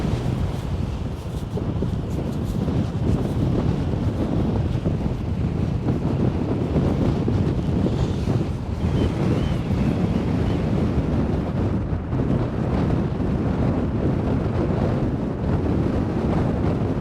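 Strong wind gusting across a microphone on a coastal walk toward Sker Point, Porthcawl, with rough surf beneath, a loud unbroken roar lasting throughout.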